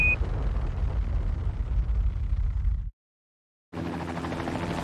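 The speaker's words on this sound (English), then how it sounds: "riding that pillar of flame from the Saturn V into the skies where the moon is waiting." Saturn V rocket launching Apollo 11, a heavy continuous low roar and rumble, loud and dense, broken by a brief silent cut before the thunder resumes.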